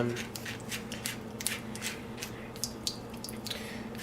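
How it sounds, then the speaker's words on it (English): A thick green smoothie slowly dripping from a Nutribullet blender, giving faint, irregular drips over a steady low background hum. "So we got a fairly slow drip going on"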